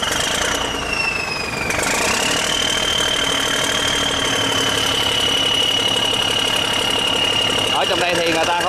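A boat engine roars steadily and loudly throughout a race on the sea, with a sustained whining tone shifting pitch over a continuous mechanical drone, close to the mic.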